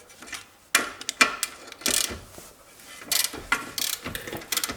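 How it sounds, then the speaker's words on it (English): A small wrench works a bolt on a Toyota Corolla during a track rod end and ball joint replacement, giving close, loud bursts of ratcheting clicks separated by short pauses, with no talking. "I can take again this my small wrench, and I can open this bolt"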